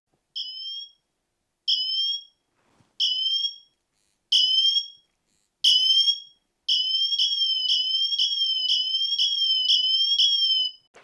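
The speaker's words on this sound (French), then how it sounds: "Je vais déclencher l'alarme." An Apple Watch Ultra emergency siren sounds loudly, starting with five separate two-tone whistling bursts, then settling into a rapid continuous run of shrill repeated pulses, with no talking.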